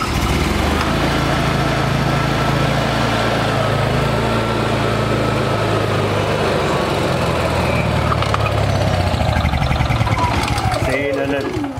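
A Honda EU6500is generator runs with a loud, steady engine drone from start to finish, close by, with a rising electronic beep near the end.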